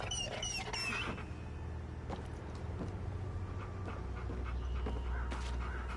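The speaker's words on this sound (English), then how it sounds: "I found the poor pup whimpering alone in a house" An abandoned puppy whimpers alone inside a house in the video game Hell Is Us, giving faint, thin high whines and soft panting over a steady low ambient hum.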